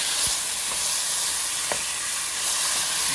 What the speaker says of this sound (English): Stir it up a little.